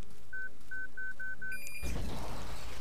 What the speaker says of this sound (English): The beeping means that it's locked on